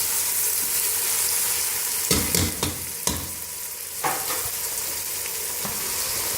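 Chicken sizzles steadily with garlic, onion and ginger in a pot. A few sharp clinks and scrapes of stirring come through up close over the frying hiss, with no talking.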